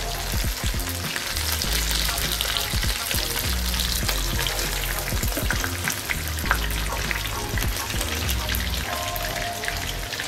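Fish coated in turmeric and salt fries on a hot tawa, a loud, dense, continuous sizzle and crackle with no talking.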